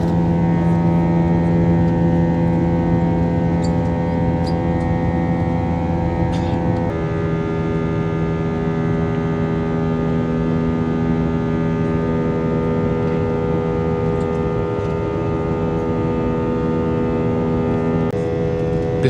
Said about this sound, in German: Bisher ist das Triebwerk super laut.